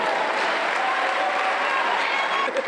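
Audience applause fills an award ceremony hall, a steady dense clapping from a crowd that holds at one loud level for a few seconds with no voices over it.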